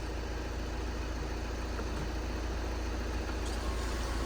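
A Volkswagen SportWagen TDI turbo diesel, a salvage car sold as not starting, idles with a low, even, continuous rumble, fairly faint and steady throughout, with no talk.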